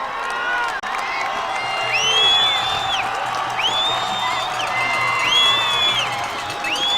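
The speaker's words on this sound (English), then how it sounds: "And the crowd lets them know it." A large stadium crowd cheers and whoops continuously at a high school football championship game, Placer Hillmen versus Center Cougars, loud and sustained, with whistles rising above the roar.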